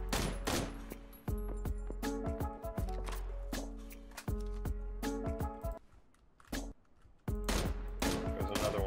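Gunfire in the video game PUBG comes as sharp, loud bursts of rapid shots in several quick volleys with short gaps between them, close and crisp.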